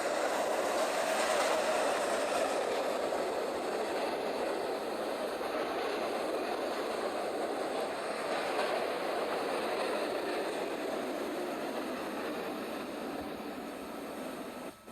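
A New York subway B local express train runs steadily underground, a broad, even rumble and rush of wheels and motors holding for the whole stretch before easing slightly at the end, with no voices.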